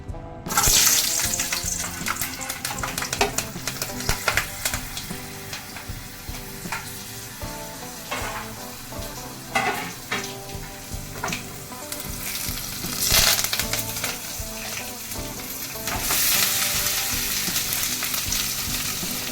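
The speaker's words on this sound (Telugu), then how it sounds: "ఆయిల్ వేసి పెనం పెట్టి ఆయిల్ వేసి ఎండుమిర్చి వేపానండి" Loud, crackling sizzle of dried red chillies frying in hot oil in a pan for tomato chutney, with bursts of spitting and stirring scrapes throughout.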